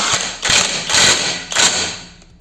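Dnipro-M DTW 202 BC cordless impact wrench driving ball joint bolts in a workshop: three short, loud hammering bursts of rattling impacts in quick succession, each trailing off, with no talk.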